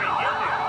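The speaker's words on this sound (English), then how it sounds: "There's the new Guttenberg ambulance." Ambulance siren at a small-town Stars & Stripes Day parade in Guttenberg, a loud, close wailing tone held steadily through the brief moment with no talk.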